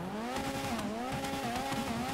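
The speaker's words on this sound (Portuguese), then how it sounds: "Escapamento titânio. Olha a diferença" A car with a titanium exhaust in GTA V revs steadily and loudly, its engine note rising and dipping in pitch over a continuous throaty drone, with no talking.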